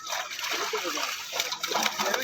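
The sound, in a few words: catla fish being released, splashing in water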